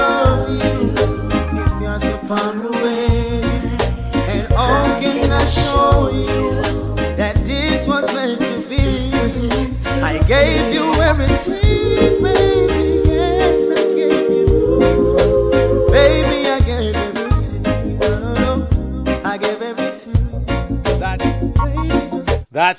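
A reggae song plays on a live radio show, with a steady bass-heavy beat and sung melody running continuously at full volume.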